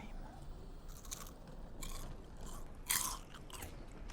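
Close, quiet bites and chewing into a glutinous rice ball wrapped around crispy fried youtiao, soft sticky mastication punctuated by a few crisp crunches, one louder crunch near the middle, with no talking.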